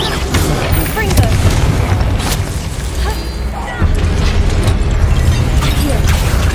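A Confringo blasting spell explodes in Hogwarts Legacy, heard as repeated booming bursts and crackling impacts layered over game effects and a voice, loud and dense throughout.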